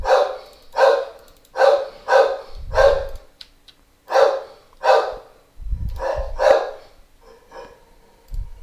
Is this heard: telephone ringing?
no